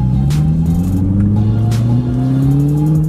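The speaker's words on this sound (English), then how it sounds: "I'm just happy to be driving my car again." A car with a matte cranberry wrap drives and accelerates, its engine tone rising steadily and loud from inside the cabin, with no voices.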